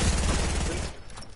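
Rapid gunfire from a Fortnite match on PS4 Pro, a dense burst of shots loudest at the start, then thinning into scattered quieter pops near the end with no talk over it.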